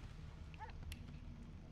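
A dog in the video game Divinity: Original Sin II gives a single short, faint bark with a quick yip, over low background rumble.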